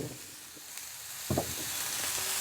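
Continuous sizzle of cluster beans frying with turmeric, chili powder and coriander powder in a hot pan, with a short scraping stir partway through, the frying hiss steady and close.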